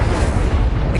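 A fiery Incendio spell is cast in the Hogwarts Legacy video game, a loud, dense whooshing roar and burst of flame that fills the whole second without pause.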